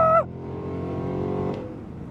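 A full-size 2026 Cadillac Escalade V with 682 hp accelerates hard in V mode, a steady, close engine drone following a brief high whine at the start.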